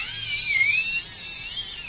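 Electric nail drill filing across a nail, a steady high-pitched whine that holds an even pitch with slight wavering throughout, close and continuous with no talk.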